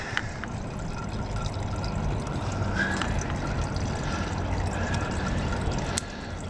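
Gasoline pours out of a hose on a Husqvarna YTH24V42LS lawn tractor in a continuous, close trickling stream over a steady low background.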